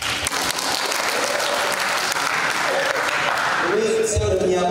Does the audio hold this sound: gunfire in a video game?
no